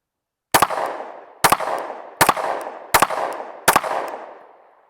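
Five pistol shots fired in a steady string after a holster draw, each a loud sharp crack with a brief echo trailing off on a range.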